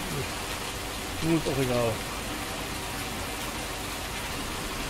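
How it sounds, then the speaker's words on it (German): Rain in Farming Simulator 19 makes a constant, even hiss from start to finish. A voice speaks briefly over it near the start. "So, nun kann der Regen aufhören."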